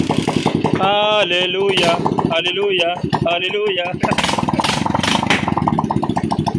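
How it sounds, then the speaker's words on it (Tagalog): A repaired motorcycle engine running after a spark plug fix, a loud, steady close-up chugging idle with revs rising and falling, while voices speak over it. "Good na, buhay na yung motor ni boss."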